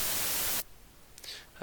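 A burst of hissing white-noise static at low amplitude, mixed into a radio voice, lasts just over half a second and cuts off abruptly, followed by quiet background and a faint whispery voice.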